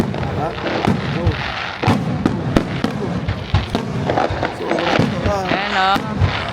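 New Year fireworks display in Australia, with repeated sharp bangs and crackling bursts at irregular intervals, some near and loud. People talk and cheer throughout.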